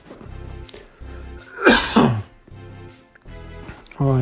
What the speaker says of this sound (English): Really glad when that cough is gone.